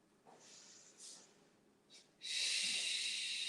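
Slow, soft breaths in and out during a yoga session, faint at first, then a long steady airy exhale that grows loud and stays close to the end, with no talking.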